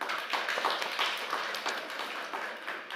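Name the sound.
audience applause for the panel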